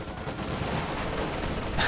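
Distant MG42 machine gun fire in a World War II strategy game, a steady crackling clatter of rapid shots running throughout at a moderate level with no talk over it.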